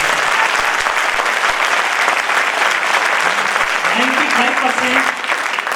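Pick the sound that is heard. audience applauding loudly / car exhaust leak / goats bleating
audience applauding loudly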